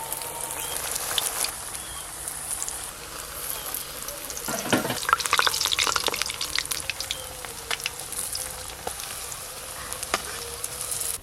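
Steady, close sizzling and crackling of prawn-stuffed koftas frying in hot oil on a clay stove, with occasional utensil clinks and faint voices in the background.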